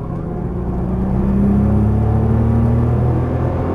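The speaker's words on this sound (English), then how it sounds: "Back on throttle now." A Nissan GT-R on a race track with a low, steady engine rumble that swells as the car gets back on the throttle, heard from inside the cabin with no talk.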